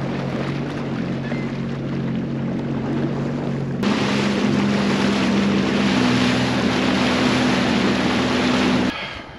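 A Sea-Doo personal watercraft engine hums steadily out on the water near a sandbar, a close, constant drone with wind and water wash, rising slightly in level midway before cutting off abruptly near the end.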